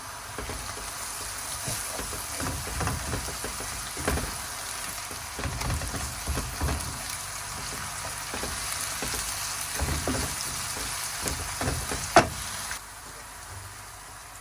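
Garlic ginger paste hits a hot pan of browning meat for boti kabab gosht masala, a steady close sizzle and crackle with periodic scrapes and stirs, no speech.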